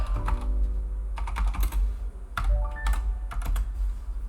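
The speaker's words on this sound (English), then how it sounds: "if I could type" Close typing on a computer keyboard, quick irregular bursts of clicking keystrokes with short pauses between runs, no voices.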